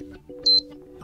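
A short electronic alarm tone preview on a POCO F6 phone rings once, a brief bright chime over a low steady hum and faint background sound.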